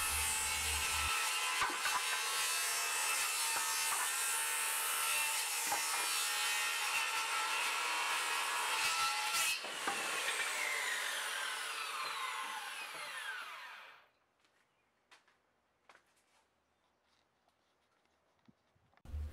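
Excess wood is cut off the top of a deck storage locker with a long, loud continuous power saw run lasting about fourteen seconds, which then winds down into near silence broken by a few light knocks.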